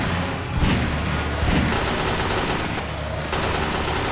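Dense, continuous gunfire in the Garry's Mod video game, a loud steady stream of rapid shots with a couple of heavier bursts, and no talk over it.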